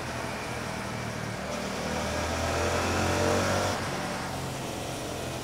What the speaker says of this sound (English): is just running through a throttle cycle to warm the bike up a little bit